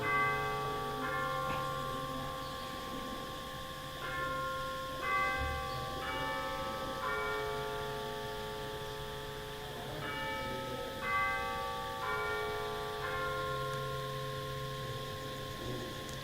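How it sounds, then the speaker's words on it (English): A mindfulness bell at Plum Village rings several times, each clear metallic strike blooming into a long sustained tone that lingers and fades under the next, calm and resonant in a quiet space. "we have a practice of listening to the bell"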